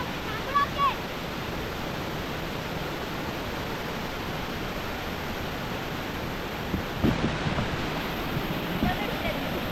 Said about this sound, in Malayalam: അപ്പൊ ഇതാ ഇതാണ് വെള്ളച്ചാട്ടം എന്ന് പറഞ്ഞത്